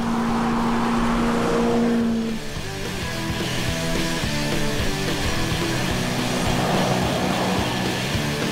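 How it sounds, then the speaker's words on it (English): A 1966 Chevrolet C-10 short-bed truck, rebuilt from a long-bed barn find, cruises at speed on the highway, its engine droning steadily with road and wind noise heard from inside the cab. "we hit the highway and opened her up"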